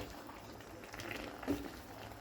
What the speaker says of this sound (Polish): Zostawimy to na 20 minut, żeby się pogotowało.